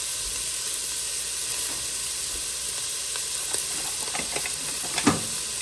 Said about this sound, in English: I'm just going to saute these till they soften, especially the onion.